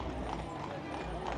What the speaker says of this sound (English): Oh, look at this horse and carriage here.